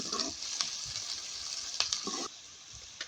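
Chopped onions and green chillies fry in a pan for a ridge gourd curry, giving a steady close sizzle with scraping stirs and a few sharp spatters, and no voices.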